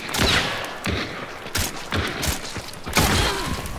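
Several sharp, loud gunshots crack in the video game Hunt: Showdown, spaced irregularly across a few seconds with echoing tails and a noisy outdoor ambience between them.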